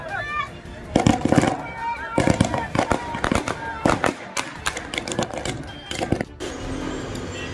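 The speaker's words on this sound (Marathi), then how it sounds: "फटाक्यासह आतिषबाजीसह यांचं स्वागत करण्यात आले" Firecrackers and fireworks bursting in a welcome for a political leader's arrival in Yermala, a rapid string of sharp cracks and pops, loud and near, with crowd voices underneath.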